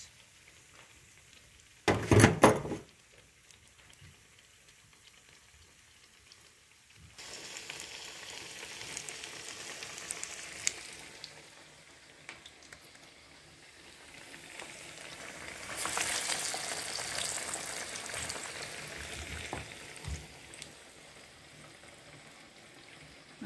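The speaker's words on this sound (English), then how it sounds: "When you fry them in the oil," Vede fry in hot oil with a soft, continuous sizzle that swells and fades in faint waves, after an earlier short, sharp clatter.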